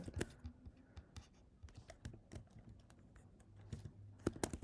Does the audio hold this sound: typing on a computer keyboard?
yes